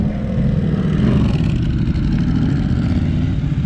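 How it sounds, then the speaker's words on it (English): Triumph Scrambler motorcycle engine at an outdoor car show, a steady loud low rumble held close without pause, no talk over it. "Triumph Scrambler."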